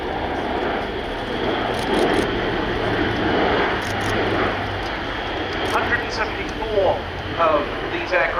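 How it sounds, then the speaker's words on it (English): An Airbus A400M tactical transport aircraft flying at a rainy airshow, its propeller-engine drone a loud, steady roar throughout, with a commentator talking over the top. "optimum rate of turn and radius of turn combined in one for this tactical delivery aircraft"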